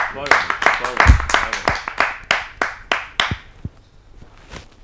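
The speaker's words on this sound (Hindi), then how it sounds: "आप सबकी जोरदार तालियों से" Scattered audience clapping at a Hindi poetry gathering, a handful of distinct, fairly close hand claps in an uneven rhythm that slows and thins out, with a voice speaking over the start.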